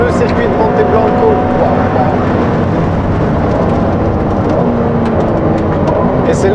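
An 830 hp Ferrari 296 GTB drives on the Monteblanco circuit, its engine a loud, continuous cabin drone with rising and falling revs, and a voice talks briefly over it.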